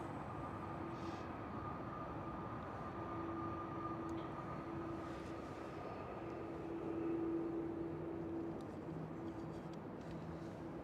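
A Delta Airlines Airbus A330 taxiing at Amsterdam Schiphol airport gives a steady, distant engine drone with a faint high whine that swells slightly partway through and carries on unbroken.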